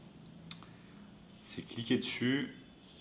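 A computer mouse gives one sharp, close click early on, and then a person starts talking.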